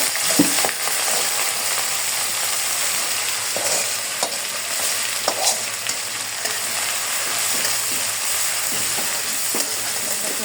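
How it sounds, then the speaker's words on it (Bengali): Shrimp frying in hot oil make a loud, close, steady sizzle, with scattered stirring knocks and scrapes from a utensil in the pan, and no one speaking. "চিংড়ি মাছটাকে একটু তেলে ভেজে নেব।"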